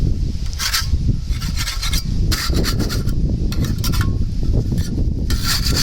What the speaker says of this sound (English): So we're going to take these apart. Just kind of get these scrape off.